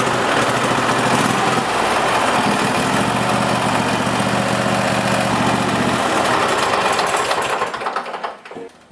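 A lawn tractor engine with a newly replaced starter runs loud and steady at idle with a rough mechanical drone, then cuts out and fades near the end.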